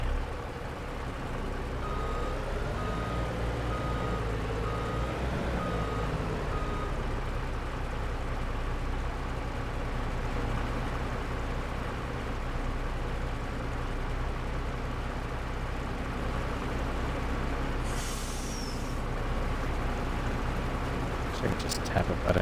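A truck engine in the Farming Simulator 22 video game, set at a grape harvest, drones steadily and loudly throughout with a constant low rumble, along with faint tonal whines and a brief higher hiss near the end.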